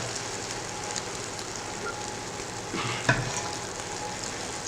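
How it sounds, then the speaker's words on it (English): Heavy sugar syrup poured onto hot baklava, a steady, soft, close hiss and crackle of sizzling with one brief sharper pop partway through. "a very nice sound when absorbing the syrup"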